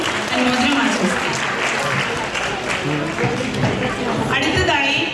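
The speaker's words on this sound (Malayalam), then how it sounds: "നമുക്ക് നല്ലൊരു കൈയടിച്ച് അവരെ എല്ലാവർക്കും അനുമോദനം ആശംസിക്കാം" A parish-day crowd gives sustained, loud applause to honoured couples at an award felicitation, a thick, close roar of clapping with voices audible beneath it.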